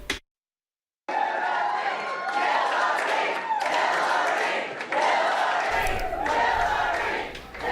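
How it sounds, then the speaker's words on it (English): A huge crowd packed inside a Manhattan bookstore roars and cheers continuously as Hillary Clinton arrives for a book signing, with shouts and applause swelling after a brief silent start. "a huge crowd inside a Manhattan bookstore as Hillary Clinton arrived to sign copies of her new book"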